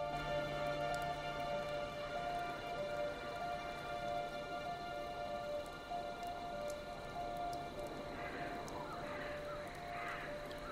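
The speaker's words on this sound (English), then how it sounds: "I love the rain effect on the camera." Rain falls in the video game Hunting Crystals – The Cursed Forest as a steady, fine patter over a soft tonal drone, continuous and fairly faint.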